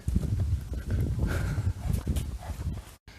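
Horses near a countryside path make low shuffling, clopping and snorting sounds, steady and close, with a brief silent dropout near the end.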